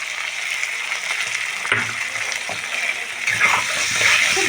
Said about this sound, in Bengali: এখন আমি দিয়ে দেবো কাজু ও টমেটোর পেস্ট।